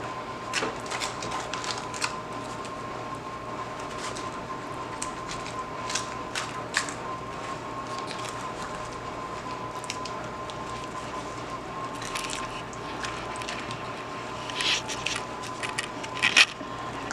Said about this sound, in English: And then just give it a stir.